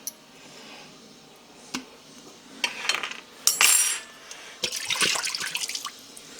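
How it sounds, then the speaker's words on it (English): About half a cup of soy sauce is poured into a slow cooker sauce with minced garlic, a close liquid splash and trickle with a few clinks of utensils against the dish. "we're going to add about a 1/2 cup of soy sauce to this"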